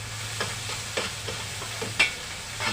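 Peppers fry in a pan with garlic and are stirred, a quiet, steady sizzle broken by soft scraping strokes about every half second, with one sharper scrape near the end.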